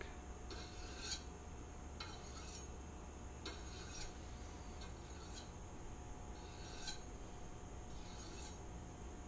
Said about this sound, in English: This is the actual shun honing stone blade stick.